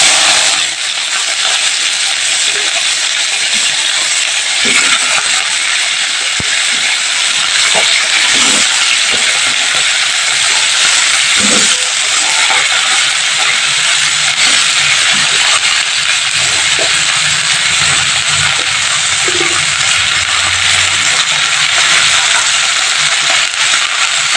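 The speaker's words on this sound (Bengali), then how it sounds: "কেটে রাখা ব্রোকলিটা আর আলুটা তেলের মধ্যে অ্যাড করে দিচ্ছি" Chopped broccoli and potatoes fry in hot oil with cumin seeds, a loud, steady, continuous sizzle and hiss throughout with scattered faint pops and clicks underneath.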